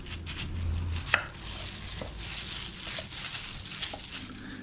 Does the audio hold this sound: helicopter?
no